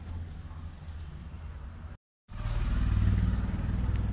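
Engine of a goods vehicle used to carry vegetables, running at a low, rumbling note, then cutting out briefly and returning louder and fuller as it pulls away.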